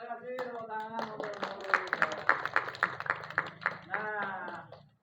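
Audience applause at an Indonesian storytelling event with mono play and monologue performances about General Hoegeng, dense clapping with sharp individual claps rising mid-way, mixed with voices and cheering throughout before fading out.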